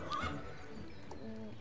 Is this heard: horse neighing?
yes